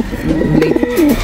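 A young ice pigeon, a rare colour variety, gives a soft, low, rolling coo, close and fairly loud, with faint background noise.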